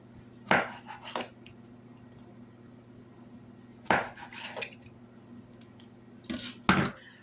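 Knife slicing thin pickle rounds for cheeseburgers on a cutting board, three quick bursts of crisp chopping clicks spaced a few seconds apart, close and clear over quiet kitchen hum.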